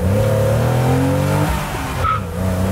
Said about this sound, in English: we're gonna test out the acceleration.